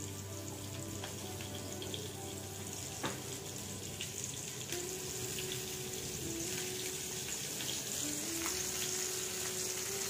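A steady, fairly quiet hiss of mackerel frying in a pan runs throughout, with faint clicks and a low hum underneath.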